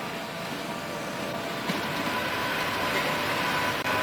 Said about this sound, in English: And off goes the train, pulling slowly out of the station.